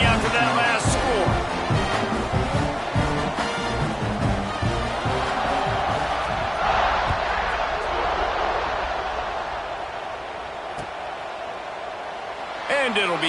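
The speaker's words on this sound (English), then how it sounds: "this crowd is buzzing after that last score" Football stadium crowd buzzing after a score, a dense continuous roar of many voices with scattered shouts, loud and steady throughout, easing slightly late on before rising again.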